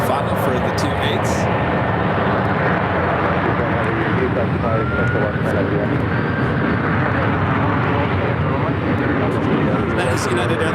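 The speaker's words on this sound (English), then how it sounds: "Air Lingus now in short final for the 2-8s" An Aer Lingus airliner on short final at San Francisco International gives a steady, broad engine roar that holds loud and constant throughout, with people talking over it.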